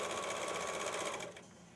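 An overlocking sewing machine runs steadily, trimming a raw fabric edge and finishing the seam at once, with a fast even mechanical whirr that slows and fades near the end.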